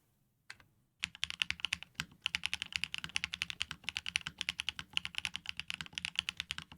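Rapid typing on a large mechanical keyboard with a relatively high-pitched sound, crisp, close clicks in quick bursts after a brief pause and a single opening stroke, with no talking.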